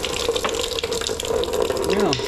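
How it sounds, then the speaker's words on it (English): Water gushes and splashes steadily out of a Dodge 360 V8 engine block from a 1981 Dodge D150 pickup, a loud, close, continuous pour with a voice briefly audible underneath. "Oh no, pouring water. This thing has got quite a bit of water in it."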